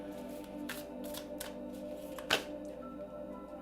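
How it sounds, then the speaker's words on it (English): Tarot cards being shuffled by hand, soft quiet riffles and slides in short bursts with one sharper snap partway through. "I'm shuffling the wrong card in the wrong deck."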